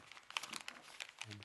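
Paper crinkling and creasing as a sheet is mountain-folded for an origami rose cube, several soft crisp rustles close by and quiet.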